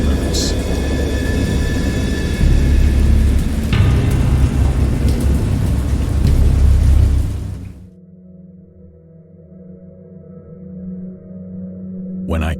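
A thunderstorm of heavy rain with rolling thunder roars loudly for several seconds and then cuts off abruptly, leaving a quieter musical background.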